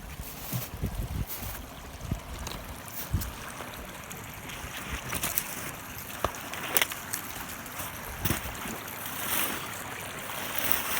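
Water flowing steadily in a brook through a park habitat with dam remnants, a soft continuous rush with occasional splashes and thumps, heard alone outdoors.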